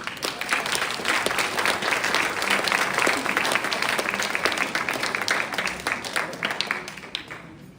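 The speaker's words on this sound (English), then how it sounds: "Everybody, a round of applause for Sean Che." An audience at a live storytelling event applauds, dense sustained clapping from many hands that stays strong and then thins out toward the end.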